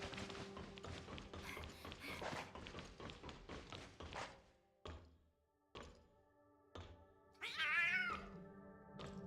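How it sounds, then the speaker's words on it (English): A cat meows and caterwauls repeatedly, with a few soft thunks and taps in between, close and clear with little else around. "Why did I hear random cat noises?"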